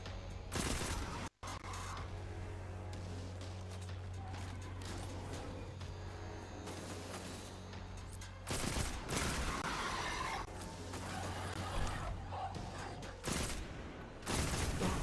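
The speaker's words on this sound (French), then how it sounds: "Pas mal ce petit fusil automatique là." Automatic rifle fire in the video game Destiny 2 comes in bursts of rapid shots, with a brief cut near the start and louder volleys later, amid game effects.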